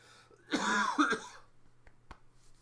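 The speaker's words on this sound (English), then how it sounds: "This cough is terrible" A single harsh cough, close by, a throaty burst with a second rasp right after, then a couple of faint short clicks in quiet.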